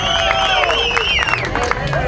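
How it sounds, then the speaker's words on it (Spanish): Crowd at a truck show in Tijuana clapping and cheering, with piercing shouts and whistles riding over a dense, steady wash of applause. "El aplauso para Michelle."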